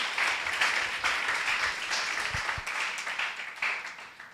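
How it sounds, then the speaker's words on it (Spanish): A church congregation applauds during a Bible-study sermon on First Thessalonians, with a dense, sustained wash of many hands clapping at a steady level for several seconds. "Dele un fuerte aplauso a nuestro Padre Celestial."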